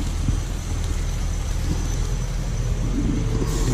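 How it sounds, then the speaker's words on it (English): A constant, heavy low rumble of machinery from a neighbouring concrete factory, like engines running at a distance, steady throughout with no talk. "We got the concrete factory over here, and they're making all kinds of noise."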